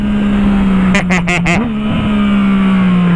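Yamaha MT-09 motorcycle engine with a loud, steady droning hum, close up, broken briefly by a short burst of rapid clattering pulses before the drone resumes.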